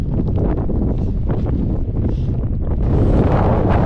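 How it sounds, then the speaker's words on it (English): Strong winter wind in Scotland buffets the microphone with a heavy, continuous roar, blowing sleet and snow in gusty surges that swell louder near the end. "The wind is really picking up and the snow is starting to get a lot deeper."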